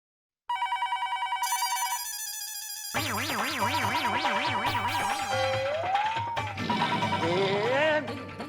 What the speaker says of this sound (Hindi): कब से फोन की घंटी बज रही है